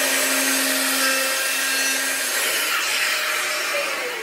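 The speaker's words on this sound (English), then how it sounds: "I can drill the hole for the actual fixed part of the gadget" A drill bores a hole through a template into wood, a steady close whirring and grinding that runs for a few seconds and tapers slightly at the end.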